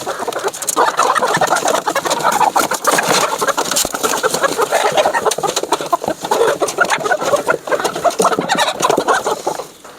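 A flock of chickens clucks and squawks continuously nearby, many birds calling over each other at a loud, busy level.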